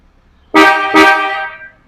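Two loud car horn blasts from a Suzuki Jimny fitted with a Maruko horn, a short honk followed quickly by a longer one, sounding close and clear against near silence.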